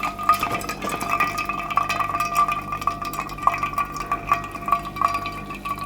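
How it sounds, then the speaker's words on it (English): Boiling water dripping through ground coffee, close-up trickles and irregular drips with faint glassy ringing tones, moderately quiet and continuous, no voices. "It's basically just dripping through."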